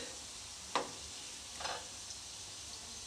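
Jamun balls frying in hot oil while being gently turned, a soft steady sizzle with two sharp scraping stirs, quiet and close with no talk.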